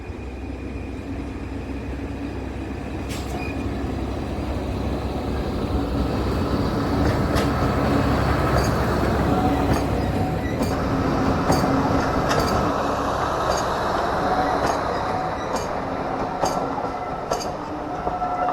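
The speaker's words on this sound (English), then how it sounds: "A little while later, the diesel returned heading north." A diesel locomotive train passes at Tanfield Railway with a steady rumble and rolling wheel noise that swells toward the middle. Repeated rhythmic rail clicks and faint squeals follow as it continues by, with no talking.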